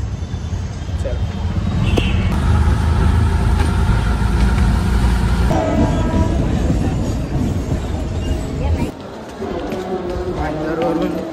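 A Mumbai suburban local train runs from Bhayandar toward Dadar, its steady rumble and rattling wheels filling the carriage loudly and continuously while voices are heard over the noise.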